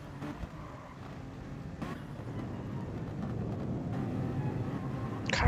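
Onboard race car engine in Gran Turismo, a low steady drone that builds gradually as the car accelerates through the gears, with a few brief clicks and thumps over it.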